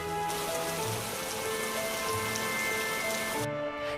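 Steady rain falls on a surface near farm fields, a continuous dense patter throughout, with faint sustained tones underneath and no talk.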